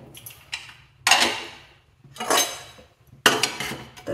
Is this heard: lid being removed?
yes